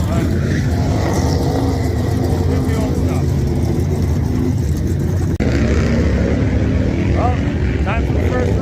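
Race cars at a drag strip during a gas class, a loud continuous engine roar and rumble close by, with a voice talking over it.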